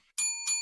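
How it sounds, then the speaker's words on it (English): A boxing bell rings twice in quick succession, two bright metallic clangs close and loud, each with a sustained ringing tone that fades briefly between strikes. "Ring the bell."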